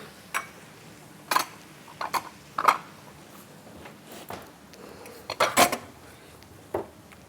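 Dishes and pots clatter as a kitchen is cleared up while pasta fries, with scattered sharp clinks and knocks in short, irregular bursts at close range and no talking.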